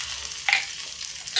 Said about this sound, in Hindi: अब देखिए इसी में हम थोड़े से मिर्च डाल देंगे और अब डाल देंगे जीरा